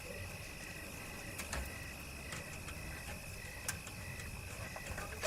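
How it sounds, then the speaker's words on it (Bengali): Crickets chirp steadily through a still night on an empty village road, a continuous high insect trill with a few faint clicks over a soft low hum, heard alone. "কানে ভেসে আসছে শুধু ঝিঝি পোকার ডাক"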